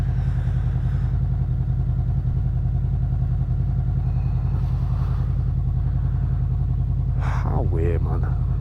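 Honda VFR800 motorcycle engine running steadily while riding on a hot summer day, an unbroken loud drone with wind rumble, close up, the engine near its overheating point.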